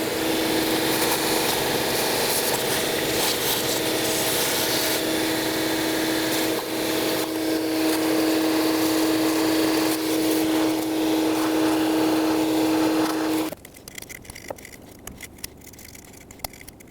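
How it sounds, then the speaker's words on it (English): A vacuum cleaner sucks debris off the engine surface of a 2011-2016 Ford F-350 6.2L V8 during valve cover gasket work, a loud steady whine close by for about thirteen seconds before cutting off abruptly into faint clatter. "vacuum all the debris away"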